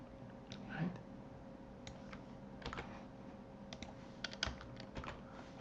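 Soft, scattered keystrokes on a computer keyboard while running code, in uneven bursts and single taps, faint and close against a quiet room hum.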